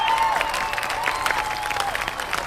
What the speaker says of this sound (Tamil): அவங்களுக்கு ஒரு நல்ல ஒரு பெரிய கைத்தட்டல் கொடுத்துடலாம்.